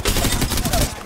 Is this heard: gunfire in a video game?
yes